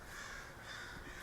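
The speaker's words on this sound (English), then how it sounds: "A lot of crows are going crazy" Several crows caw in a restless, overlapping chorus in a residential foothill neighbourhood of Albuquerque, New Mexico, the calls steady and moderately distant over a constant outdoor hiss.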